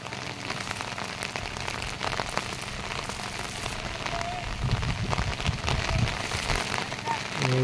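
Heavy monsoon rain pours steadily over flooded paddy fields in Konkan during rice transplanting, a dense continuous hiss with faint voices mixed in underneath.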